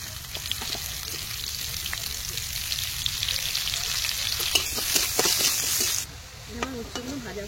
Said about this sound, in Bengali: এই উচ্ছেগুলো ভেজে নেব